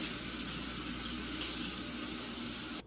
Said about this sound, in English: I'm just going to rinse them under some cold water